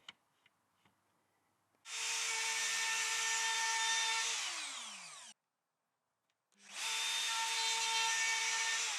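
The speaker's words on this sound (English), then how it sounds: "using the turret and depth stop thing on my plunge router" A plunge router cuts through a kitchen worktop in multiple passes, about 6mm deeper each time. It makes a loud, steady whine that stops, pauses for a moment, then starts again for a second pass.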